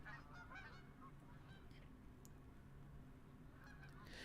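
Canada geese honking in a seaside setting, a few distant, faint honks scattered over a soft steady background, with a brief burst of calls near the start and end.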